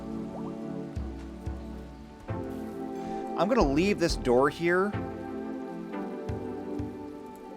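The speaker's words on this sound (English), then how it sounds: "And now it's raining." Steady in-game rain patters on surfaces in a building game, a continuous hiss running throughout under a man's close, clear talking.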